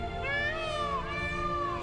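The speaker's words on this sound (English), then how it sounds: "I've never heard a peacock before." A peacock call in The Witcher 3: Blood and Wine video game, one long wavering, plaintive cry much like a kitten's meow, sounding alone and clear.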